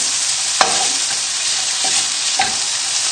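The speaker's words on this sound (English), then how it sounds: "There, it's starting to sizzle now, so I'm going to throw in the bacon" Bacon sizzling steadily on high heat in a pan, loud and close, broken by a few sharp scrapes and clicks of stirring.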